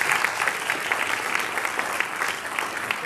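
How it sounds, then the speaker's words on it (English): A crowd claps for retirees at a school board meeting, with steady applause that stays even and full from start to finish. "A big round of applause for"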